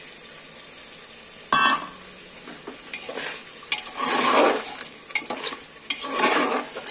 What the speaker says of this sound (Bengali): আমি লাস্টে একটু মশলা ধোয়া জলটা আমি একটু দিয়ে দিচ্ছি উপর থেকে